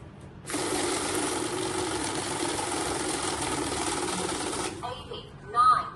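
A cash counting machine whirs steadily for about four seconds as it riffles through a bundle of banknotes, a loud, close, even fluttering that stops abruptly, followed by a brief clatter.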